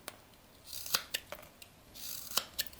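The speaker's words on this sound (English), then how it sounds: "You just kind of come in here with your knife and remove them." Knife blade carving and prying chips from wood while whittling a small skull, close dry scraping cuts and sharp clicks in irregular bursts, alone without talk.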